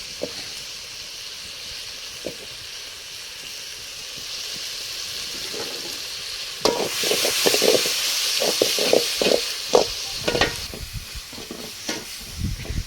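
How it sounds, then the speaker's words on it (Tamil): Tomatoes and onions sautéing in a pan, with a steady sizzle throughout and louder stirring and scraping strokes from the middle onward, close and alone. "தக்காளி வெங்காயம் நல்லா வதங்கிட்டு"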